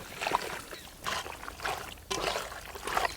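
Water trickles and splashes in uneven bursts while raw mutton is washed by hand, close and fairly loud, with no talking.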